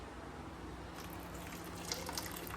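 Hot water pours into thick, cooked arhar dal in a pot, a soft steady watery rush that swells after a quiet start and runs on for a couple of seconds with a few light splashes.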